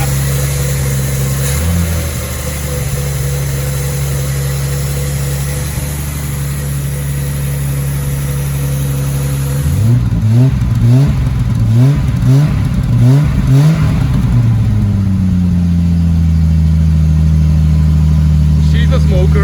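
A 1975 Triumph TR6 engine idles steadily, then a burst of repeated throttle blips revs it up and down in quick succession before it settles back to a rough idle, loud and close.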